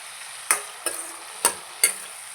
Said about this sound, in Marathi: आपण टाकला टोमॅटो आणि हा आता शिजत आहे छान तेल सुटेपर्यंत आपण याला शिजू द्यायचं